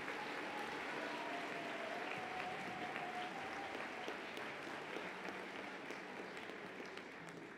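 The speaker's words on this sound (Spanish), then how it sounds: "Demos entonces un fuerte aplauso a este grupo de distinguidos funcionarios." A large audience at a university anniversary ceremony gives sustained, even applause that stays fairly far off and faint and tapers slightly at the end.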